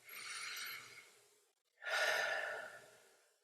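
A deep diaphragmatic belly breath is drawn in, heard close and soft as two long airy breath sounds separated by a brief pause, with no talking.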